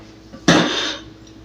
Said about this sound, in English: Put our dirty dishes away.